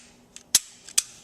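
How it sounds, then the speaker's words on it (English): Taurus G3C pistol being cleared, a quick pair of sharp metallic clacks from the slide being worked, each preceded by a softer click, close and crisp. "Let's go ahead and clear this firearm."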